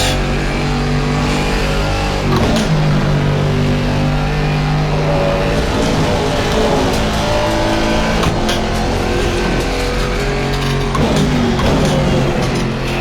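A race car in Assetto Corsa Competizione roars steadily at high revs, its engine note rising through the gears and dropping sharply at each shift, loud and continuous without talk.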